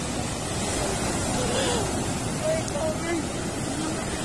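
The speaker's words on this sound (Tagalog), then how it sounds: "Lalaki ng alon." Big ocean waves at sea after a typhoon, heard from a fishing boat as a steady, loud broadband wash of surf and wind noise that continues without break throughout.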